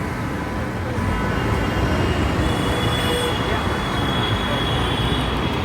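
Metro train at the Hemanta Kumar Mukhopadhyay station, a loud continuous rumble of wheels and carriages rolling close by with faint squeals, over steady station noise.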